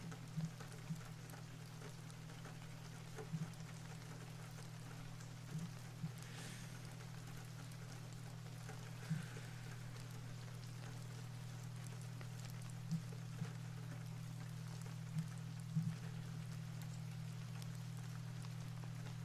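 Rainy night ambience behind an evening livestream: a soft, steady patter of raindrops with scattered small drips, over a constant low hum, with no talk.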